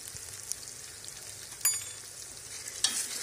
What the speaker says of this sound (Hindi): इसी तरह से तमाम मसाला जात को मिक्स कर लेंगे